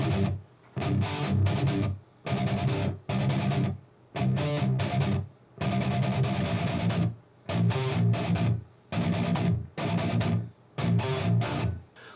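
Guitar playing a section of a song slowly, strummed chord phrases that stop and start in bursts with short silent gaps between them, fairly full but played at moderate volume.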